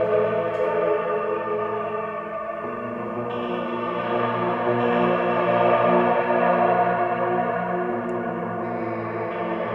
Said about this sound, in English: a slightly out of tune reverb.